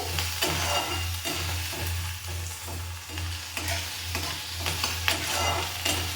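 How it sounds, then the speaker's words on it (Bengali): Vegetables fry and sizzle in a pan with a steady hiss while a utensil stirs them in rhythmic scraping strokes, close and continuous with no talk. "সবজিগুলো ভাজা ভাজা হয়ে গেলে ওর মধ্যে টমেটো আর পেঁয়াজের যে পেস্টটা করেছি সেটা দিয়ে দেবো"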